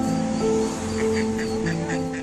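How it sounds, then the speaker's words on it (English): A mother duck with her ducklings gives several short, nasal quacks in an uneven series over a steady background hum, close by and fairly clear. "Here comes a mother duck with all her little ducklings, following closely behind."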